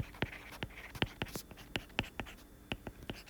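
Numbers being written on a board, a quick run of about a dozen crisp tapping and scratching strokes in an uneven rhythm, close and fairly quiet, with no voices.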